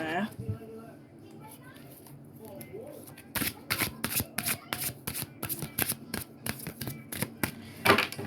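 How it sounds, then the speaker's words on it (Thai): A fortune teller shuffles a deck of fortune-telling cards close up. After a soft-spoken stretch of talk, a run of quick, crisp riffling bursts follows. "ขอสับไพ่นะจ๊ะ"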